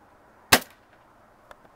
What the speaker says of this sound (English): Kyle got his airsoft shotgun. Shoots plastic BBs.